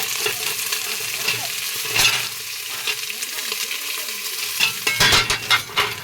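Onions and green chillies hitting a hot pan for a tempering, a continuous crackling sizzle close by, with utensil clatter and stirring knocks toward the end.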